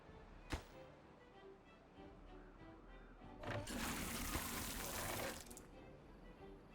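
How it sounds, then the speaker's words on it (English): Water rushes through a channel in the beaver colony-building game Timberborn, starting as a soft steady trickle, then swelling into a louder broadband gush for about two seconds before easing back, with a sharp click near the start. "the water's coming through this section and then actually flowing in"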